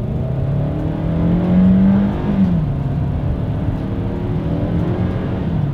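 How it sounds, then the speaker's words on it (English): A 2020 Hyundai Tucson SUV accelerates in sport driving mode, its engine note rising steadily with a sustained whir and road drone heard from inside the cabin, with no talking. "let's do a quick little acceleration here in our Tucson"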